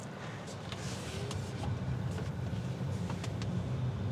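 A 2026 Hyundai IONIQ 9, a heavy electric SUV, drives along with a steady low road and tire rumble heard from inside the cabin, plus a few faint clicks.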